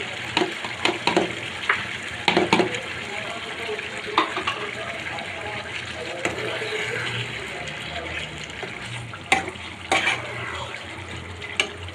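Chicken with chickpea dal sautéing in a pan, a soft steady sizzle broken by repeated scraping and stirring clatters of a spoon, close and fairly quiet, without talk.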